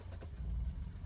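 A 1971 Volvo 164 engine catches and settles, a brief low mechanical rumble rising after a short crank-like burst, fairly quiet and close, with no talking.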